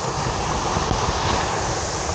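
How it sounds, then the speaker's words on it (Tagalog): Strong waves crash at the shore where someone is fishing with a baitcasting setup, a close, steady, loud roar of surf with no voices. "Lakas ng alon, ayoko."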